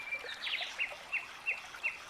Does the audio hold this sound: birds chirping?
yes